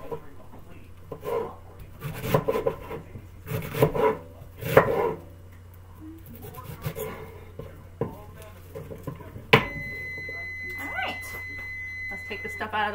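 A knife roughly dicing red cabbage on a cutting board, with irregular soft chops in clusters under low kitchen background noise, then a sharper knock and a steady faint tone afterward.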